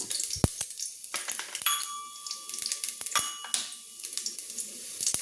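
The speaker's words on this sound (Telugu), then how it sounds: "మంచిగా వేగాలి. మంచిగా వేగిపోయింది కదా, స్టవ్ ఆపేద్దాము." Cumin seeds and black pepper frying in hot oil for dal pongal, a steady crackling sizzle broken by sharp pops and utensil clicks, with a brief tonal ring midway, close and moderately loud.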